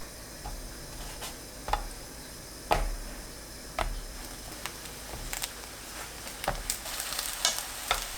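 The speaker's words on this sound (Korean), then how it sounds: "팬에 식용유 2스푼, 들기름 1스푼 넣어 중불로 불을 켜고 가지 올려 앞뒤 노릇하게" Eggplant pieces browning over medium heat in a pan with cooking oil and perilla oil, giving a steady soft sizzle and crackle with scattered sharp pops and spatula scrapes throughout.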